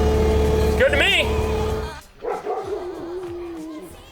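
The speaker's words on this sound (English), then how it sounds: "Looks like the dogs are getting groomed today. Yeah, they don't like it at all." Dogs bark and yip while being groomed, several sharp barks in the first two seconds over a loud busy background, then fainter whimpering yelps with people talking.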